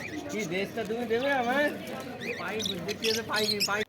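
Cockatiels, including black cockatiels, at a busy bird market make shrill warbling calls and chirps, loud and close, mixed with other birds while someone speaks over them.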